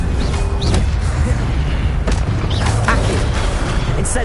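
Stupefy spell cast in Hogwarts Legacy, a series of booming magical impacts and zaps over loud, continuous game effects.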